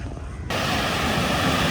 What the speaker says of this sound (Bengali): এই চলে এসছি বিচের পাড়ে, কোভালাম বিচ।